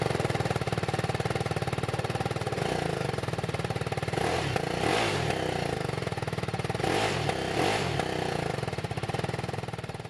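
A BMW G 310 R motorcycle's 313cc liquid-cooled single-cylinder engine running steadily, a loud, close, buzzy thrum with brief swells of throttle, no voices.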